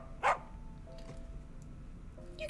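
A small dog named Zolka gives a single short yap in the horror game Tiny Bunny, a brief bright burst near the start against quiet ambient hum, with no one talking.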